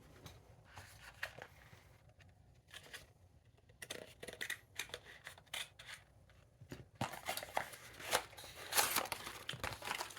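Buskill laptop killcord package opened during an unboxing, with scattered snips, crinkles and tearing of packaging close by, growing louder and busier toward the end, and no talk.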